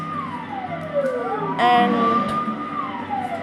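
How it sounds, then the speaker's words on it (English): A police car siren from a vehicle in a Minecraft planes mod wails up and down in long sweeping tones, loud and steady throughout, with a brief spoken word at the start. "when you drive this, it does make the police car noise."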